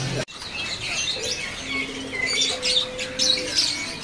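A songbird calls inside a bird shop, with bright chirps, a few squawky notes and some flapping. The birdsong sounds close and clear over a steady background of other birds and room noise, with no talking.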